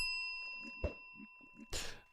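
A single bright bell ding sounds as a signal during a large multiplayer civilization game event. It arrives after a few soft clicks and faint background noise and rings out clearly on its own.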